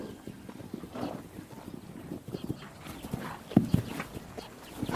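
Faint, irregular hoofbeats from small, hardy Mongolian horses moving across the open steppe. The soft thuds are distant and scattered, with one slightly louder knock near the end.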